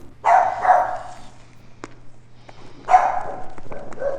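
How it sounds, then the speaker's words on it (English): A dog in a home kitchen lets out two bursts of loud, close barking, each a quick run of barks, with a few faint footsteps or taps between them. "She's barking at something imaginary."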